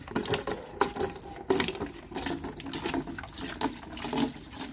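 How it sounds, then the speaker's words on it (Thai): EM starter culture and molasses being stirred into water in a container, giving a continuous sloshing, swirling liquid sound with repeated stirring surges, close and moderately loud, with no speech. "คนให้หัวเชื้อ EM แล้วก็กากน้ำตาลนะครับ เข้ากับน้ำให้ละลายให้ดี"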